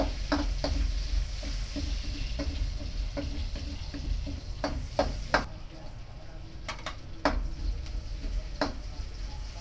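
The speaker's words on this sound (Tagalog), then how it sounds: "Tapos magigisa na tayo ng garlic at onion." Garlic and onion sautéing in a pan, a steady low sizzle with a spatula clicking and scraping against the pan in irregular strokes, close and fairly loud.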